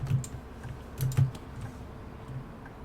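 Computer keyboard keys are tapped while playing Bus Simulator 18, a few soft separate clicks with a small cluster just after one second, quiet and close against a low room hum.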